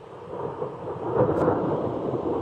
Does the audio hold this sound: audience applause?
no